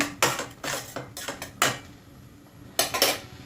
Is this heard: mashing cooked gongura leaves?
yes